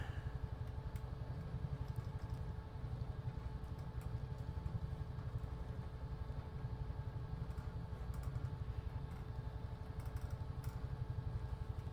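Simulated Huey helicopter turbine and rotor in Microsoft Flight Simulator, a steady rhythmic rotor thump with a constant engine whine as RPM builds, faint clicks on top, no talk.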